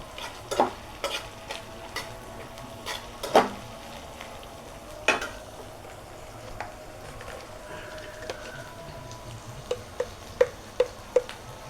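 Food lightly frying in a pan during a Bengali home cooking session, a low, steady sizzle broken by scattered sharp ladle taps and scrapes against the pan, close and fairly quiet, with no talking.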